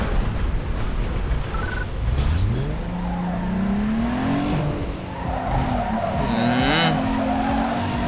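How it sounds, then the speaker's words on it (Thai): A Hyundai racing car engine in Need for Speed Underground 2 whining and rising in pitch through gear changes, with tire screeches and a constant roaring background. "เสียงเครื่องเอาได้อยู่นะฮุนได"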